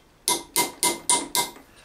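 A small hammer taps a metal knuckle gadling into place on a gauntlet finger, giving five sharp, ringing metallic strikes in a quick, even rhythm, close and clear with no talk.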